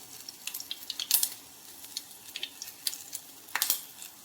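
Garlic tempering crackles in hot oil in a small pan, giving a soft, near sizzle with scattered sharp pops and spatters that never stop, and no one speaks.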